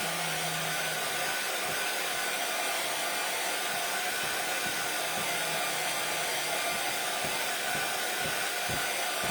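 A hair dryer blows steadily on a Christmas craft, a loud, unbroken whooshing drone that lasts the whole stretch with no voices.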